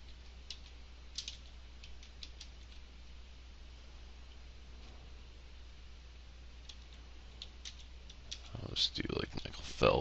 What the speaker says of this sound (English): I'll type in here.